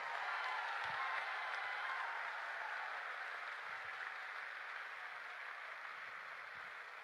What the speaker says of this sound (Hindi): मां बाप के लिए जोर से तालियां बजाओ